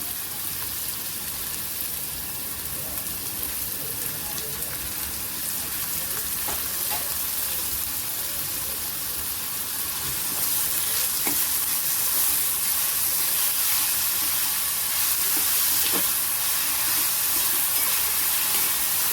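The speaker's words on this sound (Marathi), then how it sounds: "लसूण आणि कोथंबीर मी एकत्र ठेसून घेतलेली आहे कढीपत्ता आहे तर हे आपण परतून घेऊया" Crushed garlic, coriander and curry leaves sautéing in a hot pan, a loud steady sizzle with occasional spatula stirring strokes, continuous and close, growing slightly louder midway.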